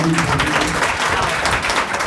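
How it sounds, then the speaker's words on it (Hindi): An audience bursts into loud, steady applause at a Hindi poetry recitation during a 2022 award ceremony at a school in Biaora, a dense clapping wash filling the whole moment without a break. "एक बार जोरदार तालियां"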